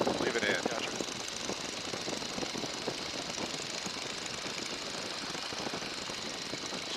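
Radial engine of a Stearman biplane running at steady cruise power in flight, a loud continuous rumbling drone with a rapid pulsing beat that fills the whole stretch, with wind and cockpit noise and no speech.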